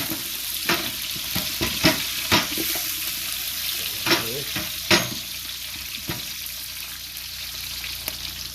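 Spices with Maggi, cold pepper and black lime, stirred together in a pan for a spicy mandi chicken, sizzle steadily while a spoon scrapes through with sharp, irregular clacks; no voices.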